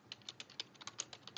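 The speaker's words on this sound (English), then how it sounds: "I'm going to type" Quick, uneven keystrokes on a computer keyboard, about a dozen soft clicks in a little over a second, close and fairly quiet, with no talking.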